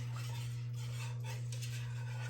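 Eggs being mixed into a warm food mixture for a Thanksgiving dish, a spoon scraping and clinking softly against the bowl under a steady low electrical hum.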